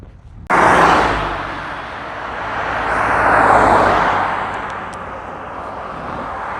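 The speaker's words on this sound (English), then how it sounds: "the chuffing plane goes overhead" An airplane passes overhead as a broad, rushing roar that swells to a peak and slowly fades, with no one speaking.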